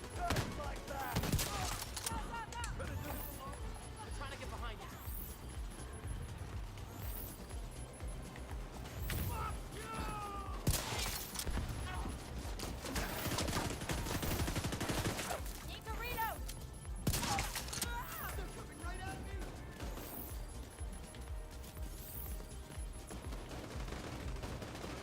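Gunfire in The Division 2 Manhunt mission, with intermittent bursts and single shots scattered over about twenty-five seconds, some louder volleys standing out, while someone talks between and over the shots.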